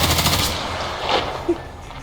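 Gunfire in the Roblox shooter Hellmet: a fast automatic burst rattles loudly at the start, then fades into quieter game noise with a lone later shot.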